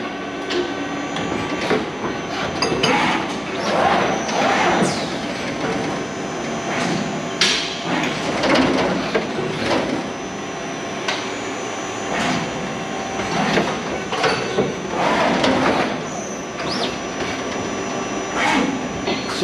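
Automatic cycle of a Takamaz XW 130 twin-spindle, twin-turret CNC lathe with stocker and gantry loader: steady machine hum under repeated mechanical clunks, slides and clicks at irregular intervals, close by and fairly loud, with no talking.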